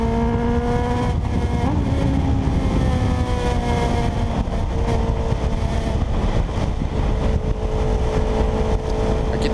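Motorcycle engine riding a tight, winding mountain road at Serra Negra, loud and close, with a steady drone whose pitch rises and falls as the rider works through the curves.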